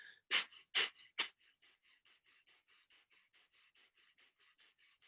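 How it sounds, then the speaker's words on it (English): Rhythmic nasal breathing pulsed in and out, three strong sharp exhales followed by a long even series of quicker, softer puffs, close and quiet with no other sound. "pulsing the breath in and out through the nose, focusing mostly on the exhale"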